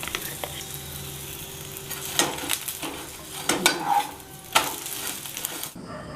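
Chana dal paratha sizzles in hot oil in a pan, a steady frying hiss punctuated by clinks and scrapes of a utensil against the pan, close and moderately loud, with no talking.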